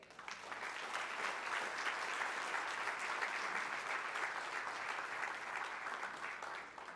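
A church congregation gives sustained applause after a sermon, a dense, steady wash of many hands clapping at moderate distance that swells in and tapers off slightly at the end, with no voices over it.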